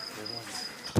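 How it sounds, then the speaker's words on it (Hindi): A mosquito whines with a thin, steady high-pitched buzz that drifts in and out over about a second, ending in a brief louder rustle close by. "अरे फंसा क्या मच्छर?"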